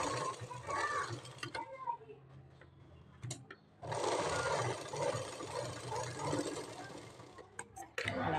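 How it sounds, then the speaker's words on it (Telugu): A sewing machine stitches a blouse, running in long, steady whirring bursts. It pauses briefly near the middle, then starts again at close range. "ఇలా కుట్టుకున్న తర్వాత ఇక్కడ మెయిన్ డాట్ కుట్టుకోవాలి."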